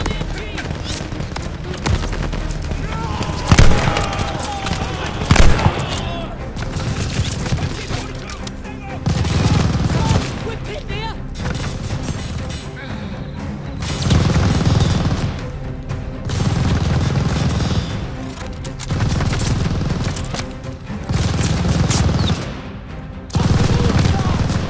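Machine gun fire from a tower MG in the Call of Duty: Vanguard video game, repeated loud bursts of rapid fire alternating with pauses, mixed with other battle noise.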